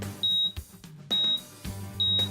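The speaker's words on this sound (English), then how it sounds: "it will audibly beep letting you know when the TPW cell is ready to be realized" An ADDITEL ADT878 calibrator with a triple point of water cell sounds three short, sharp electronic beeps, evenly spaced about a second apart, loud and close.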